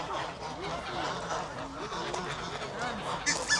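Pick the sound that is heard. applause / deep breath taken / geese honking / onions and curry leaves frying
geese honking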